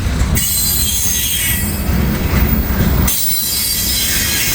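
A Norfolk Southern freight train rolls past at close range, its wheels squealing on the rails in a loud, sustained screech over a continuous rumble.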